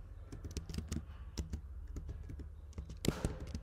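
Someone types on a computer keyboard, a quick uneven run of soft close key taps with a heavier press near the end, with no talking.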